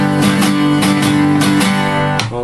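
An acoustic guitar plays the bar before the first verse of a song, with loud, close, rhythmic strummed chords struck in quick succession and no talking.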